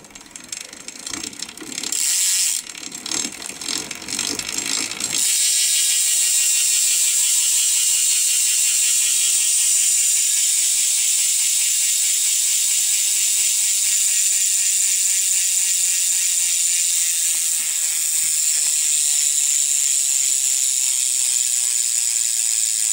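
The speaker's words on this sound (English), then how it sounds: "But here's the sound of it." Rapid, steady ratchet clicking from a Profile SS Mini BMX rear hub freewheel, built on a Nema 777 rim with an Odyssey tire, uncleaned; a loud continuous buzz of clicks close up, preceded by a few seconds of handling noise.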